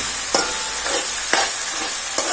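A spoon stirring fish curry masala as it fries and sizzles in a pan, a constant bright crackle with three sharp scraping strokes spaced about a second apart, close up and without voices.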